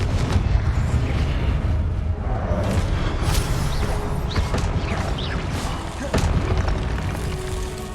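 Explosive blasting spell in the Hogwarts Legacy video game, a dense rumbling boom and crackling burst filling the whole span at close range, with game effects layered over it.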